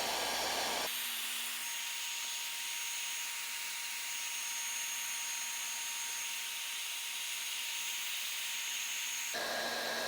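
A heat gun on its low setting blows steadily at a seized TRX 3.3 nitro engine, a constant airy whoosh with a faint whine that switches on and runs evenly, no talking.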